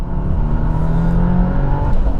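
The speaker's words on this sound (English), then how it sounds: "Now, if I slow down a little bit, go to 2nd gear, floor the throttle" A turbocharged 2025 Subaru WRX tS engine drones loudly and steadily at full throttle in second gear, a deep rumble with a rising turbo whir, no talking.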